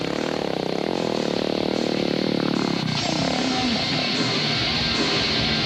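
A KTM rally motorcycle races across the desert during the 2000 Paris-Dakar Rally, its engine droning loud and close, then shifting pitch as it passes and pulls away.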